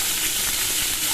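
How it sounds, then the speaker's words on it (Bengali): Potatoes and yardlong beans in oil seasoned with black cumin sizzle loudly and steadily in a pan, a dense continuous hiss with no voices. "আলু আর বরবটিগুলো দিয়ে দিচ্ছি এর মধ্যে"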